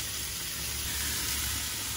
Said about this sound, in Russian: она сейчас пожарится и будет такой золотистый тоже